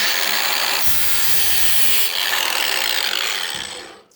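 A knife blade drags across an All American Sharpener in one long, continuous, gritty abrasive swipe, close and loud, tapering off at the end.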